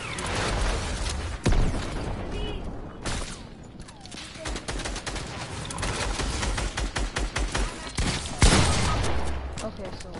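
Drum gun firing in the Fortnite video game, rapid bursts of automatic gunfire rattling loud and close, broken by short pauses, with other shots and booms scattered through the ten seconds.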